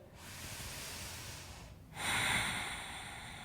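A slow, close breath out during a guided yoga breathing exercise, soft airy hiss that swells louder near the end, with no speech.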